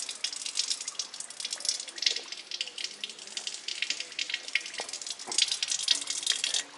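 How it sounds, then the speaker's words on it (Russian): Mineral spring water from the Leopold Sprudel source pouring into a cup outdoors, a steady bright trickling splash lasting several seconds, fairly close with no talking. "Наберем водички, полкружечки, полстаканчика,"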